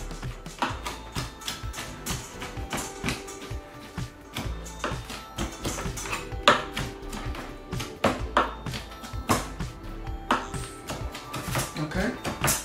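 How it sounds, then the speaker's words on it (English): A sharp kitchen knife chops food on a board while a prawn omelette with salad is prepared, with irregular close taps and knocks alongside a person talking. "just chopping."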